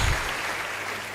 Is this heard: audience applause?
yes